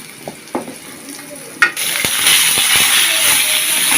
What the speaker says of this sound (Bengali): মাথার মাথাটা ভেজে নিতেছি।